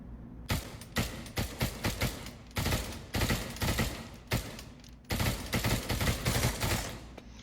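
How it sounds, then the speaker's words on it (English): An M16A4 rifle in the Pavlov VR shooter fires repeated short bursts of loud, close gunshots, grouped in rapid clusters with brief pauses between volleys. "the M16, specifically the M16A4"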